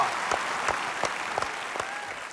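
An audience applauds a band at a music contest, producing steady, moderately loud clapping with sharp individual claps standing out from the crowd.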